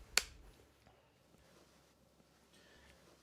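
Single sharp clapperboard slate snap marking the B camera on a Dota 2 esports documentary shoot, one crisp loud crack at the start followed by quiet room tone.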